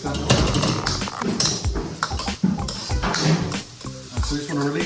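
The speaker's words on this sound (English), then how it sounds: "Now that's sizzle." Chopped chili and garlic hitting a hot wok, a steady frying sizzle under clanking of a utensil scraping and stirring against metal, close up, with speech between the sounds.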